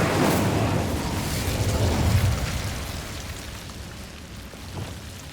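An Incendio fire spell cast in Hogwarts Legacy bursts out as a loud whooshing, crackling blast that rumbles on for a few seconds and then tails off into a softer roar, with a small pop near the end.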